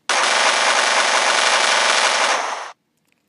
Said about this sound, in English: If you guessed minigun, you're correct. The M134.